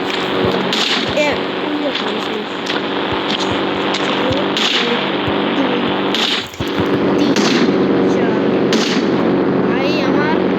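Video game guns fire from a car in quick bursts of sharp cracks over a constant engine-like drone, with several louder shots spaced through the clip.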